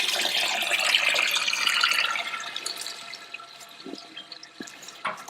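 Water rushes steadily into a homemade chicken scalder, loud at first and then gradually easing into a softer trickle with a few scattered splashes and knocks.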